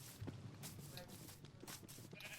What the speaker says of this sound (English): Oh, there's my sheep farm.